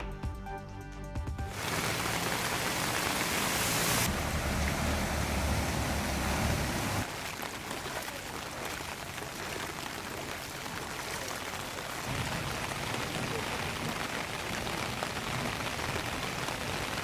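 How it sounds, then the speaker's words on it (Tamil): Heavy rain pouring over the city streets of Thoothukudi, with runoff flowing along the roads: a dense, hissing downpour that is continuous and loud, with abrupt shifts in level and texture between sections. "தூத்துக்குடி மாநகர் முழுவதும் வெளுத்து வாங்கிய கனமழையால் சாலைகளில் பெருக்கெடுத்து ஓடிய மழைநீர்"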